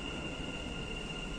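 A metro train rumbles steadily at Union metro station, a continuous roar with a thin high whine, before cutting off abruptly.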